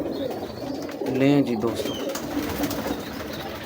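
Breeder pigeons cooing in soft, low throaty bursts, loudest around the middle of the clip, under someone talking.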